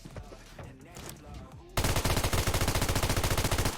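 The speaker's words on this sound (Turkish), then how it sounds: "Kanka çok silah atıyor mermiyi." Rapid automatic gunfire from a weapon in the PUBG Mobile battle game erupts loudly at the midpoint and keeps up a steady, fast rhythm of shots, after quieter game sounds and faint talk.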